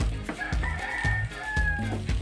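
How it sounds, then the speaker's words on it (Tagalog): A rooster crows loudly and drawn out while hungry hens cluck in short repeated bursts underneath, close by and noisy. "Yung mga manok yata nagugutom natin, nag-iingay."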